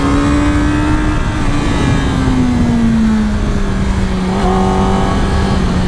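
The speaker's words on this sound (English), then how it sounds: "Quick overtake here." A 2019 Yamaha R6 sport motorcycle accelerates hard after an overtake, its engine whining loudly and steadily close by as the pitch shifts with gear changes, under constant wind rush.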